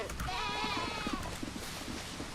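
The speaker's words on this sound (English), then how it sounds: "Ignore those goats for now." Goats bleat in the open-world survival game Windrose, with several wavering animal calls layered close together over a steady game ambience for a couple of seconds.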